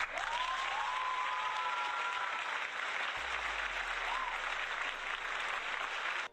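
Audience applause fills a talk show studio, a steady, dense wash of clapping that holds evenly throughout and cuts off abruptly at the end.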